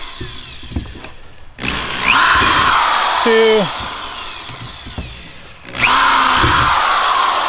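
A power drill bores holes through plastic for a flush mount rod holder on a boat, running in two loud sustained bursts separated by a quieter pause, with brief motor pitch changes.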